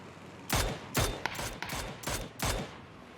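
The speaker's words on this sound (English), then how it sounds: "it's actually kind of good practice shooting from a glider" Gunfire from a glider in the PUBG video game: about six sharp, loud bursts in a fast, uneven rhythm, each cracking out clearly with no talk over them.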